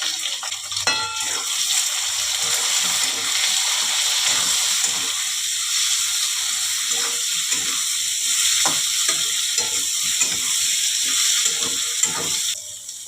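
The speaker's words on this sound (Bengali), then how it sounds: "পেঁয়াজ কুচি দিয়ে দিলাম, টমেটো কুচি দিয়ে দিলাম, কাঁচা লঙ্কা কুচি দিয়ে দিলাম, রসুন কুচি দিয়ে দিলাম।" Chopped onion, tomato, green chilli and garlic frying in oil for a small-fish curry, a continuous loud hiss and crackle close by, with occasional stirring clatter and no talk.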